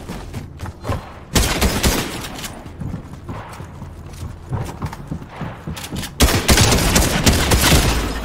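Shotgun blasts in Fortnite amid chaotic gameplay, several loud sharp reports with footsteps and clatter between them, a heavy burst near the end.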